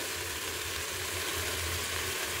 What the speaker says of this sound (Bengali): দেখো একটু ভাজা ভাজা হচ্ছে।